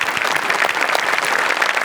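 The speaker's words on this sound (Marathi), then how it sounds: "टाळ्या झाल्याच पाहिजेत" A comedy show's studio audience claps loudly and steadily, with dense, continuous applause that fills the whole space.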